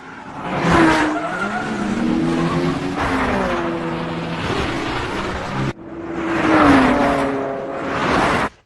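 A racing car with a 5.2-litre V10 engine accelerates hard on a climbing road, its loud rising engine notes shifting through gears with tire squeal, briefly cutting out before surging again.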